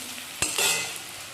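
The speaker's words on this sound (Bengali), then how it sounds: "পেঁয়াজটা ভাজা হয়ে গেল" Onion frying in oil, a brief close stir scrapes the pan and sets off a short burst of sizzling that quickly fades, with no talk.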